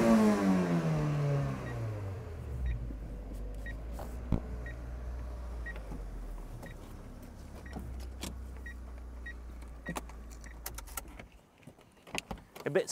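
A Mazda MX-5 1.8 litre VVT arrives with a steady engine drone that slides down in pitch as it slows and settles, loud and near, with scattered clicks and squeaks near the end and no talk.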